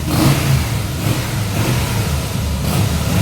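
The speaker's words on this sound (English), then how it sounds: "Sounds like a happy motorcycle to me." A 2013 Harley-Davidson Softail FLS motorcycle, just fitted with a new oil drain line, revs loudly and close by in a continuous deep rumbling surge that swells and eases without pause, with no voices.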